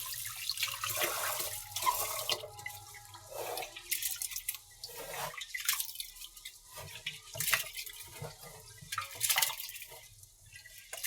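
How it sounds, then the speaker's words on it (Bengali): Water splashes and trickles into a cooking pot, a steady uneven pouring with gurgles and small splashes, close by with no talk. "এই পানিটা আমার গরু খায়, এই জন্য আমি পাতিলে রাখে দিলাম পানিটা।"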